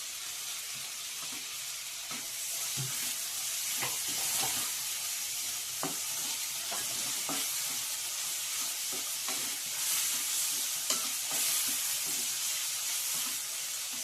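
Tomato and masala fry in hot oil for a Karnataka-style bassaru, a steady close sizzle with intermittent scraping stirs of a spoon against the pan, no talk.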